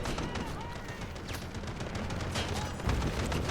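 Dense, continuous gunfire and explosions from the video game Delta Force: Black Hawk Down, with rapid bursts and blasts layered throughout, growing louder near the end, under faint voices.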